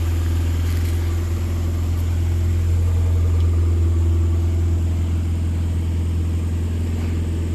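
A classic car engine idles steadily up close, a low, even mid-pitched rumble holding constant throughout with no talking.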